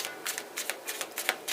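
Tarot cards being shuffled by hand in quick riffled bursts, crisp and close, with several short flurries of card flicks following one another in a brisk, uneven rhythm.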